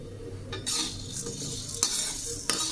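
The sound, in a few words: stirring dry-roasting lentil powder in a pan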